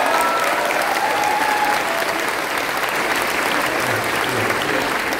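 An audience at a public dialogue event in Yogyakarta applauds, a dense, steady clapping that fills the whole stretch at an even level with no talk over it.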